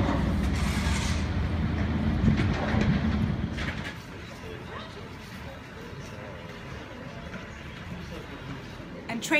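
Passenger train on the Toulouse to Ax-les-Thermes line in the French Pyrenees, a steady rumbling roll that is loud at first and then settles into a quieter, continuous hum, with a voice talking over it.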